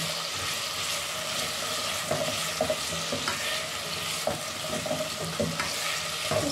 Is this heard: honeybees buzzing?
no